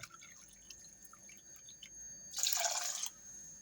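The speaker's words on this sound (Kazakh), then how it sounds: "қайнаған суымызды құямыз." Boiling water is poured onto washed rice in a pot while making Iranian cherry pilaf, a brief close splashing rush lasting under a second after quiet kitchen sounds.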